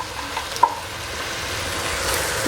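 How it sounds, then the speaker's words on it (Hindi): Salted masala for chicken karahi sizzles steadily in a pan while being stirred, with an occasional soft scrape or tap of the spoon. The frying hiss is close, continuous and untouched by talk. "अभी मैं इसको अच्छे से मिक्स कर देती हूँ। ये देखिए, मसाला मेरा काफ़ी हद तक फ्राई हो गया है।"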